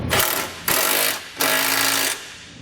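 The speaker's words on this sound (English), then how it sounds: "I'm going to come back with an 11/16 socket, and I'm going to snug up the two nuts that are coming down from the bottom of the frame" A power tool with an 11/16 socket snugs up trailer hitch nuts under the frame of a 2019 Buick Encore while a Curt receiver is fitted. It gives three loud, close bursts of rattling impact hammering with short pauses between.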